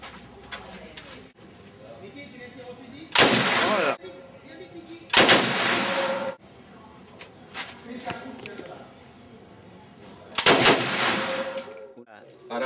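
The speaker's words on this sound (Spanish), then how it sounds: "Vamos a empezar a disparar con un AK-47, más conocido como Kalashnikov" Gunfire from an AK-47 Kalashnikov rifle at a shooting range at the Cu Chi Tunnels in Vietnam: three loud, sharp bursts of shots, with quieter background noise and chatter between them.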